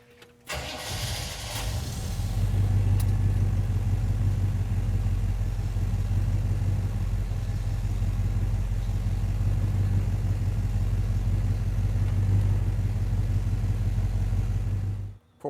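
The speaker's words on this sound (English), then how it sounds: "Let me start this puppy and you can hear it idling." A 1965 Chevy Deluxe truck engine cranks briefly and fires, then settles into a steady, loud, even idle that continues alone until the end.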